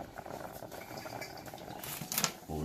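Pot of grits simmering on a stove, a steady bubbling and popping texture with denser bursts of plopping near the end, close by and with no talk.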